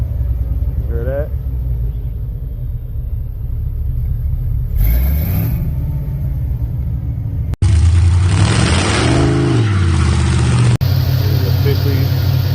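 A G-body car fitted with a swapped LS engine and new exhaust pipework rumbles and revs, loud and near, with a person talking over the engine throughout.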